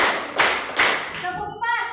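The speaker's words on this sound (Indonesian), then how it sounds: "Jadi 5 kali tepukan ya." Two quick hand claps land during a classroom rhythm counting exercise, followed by a voice speaking.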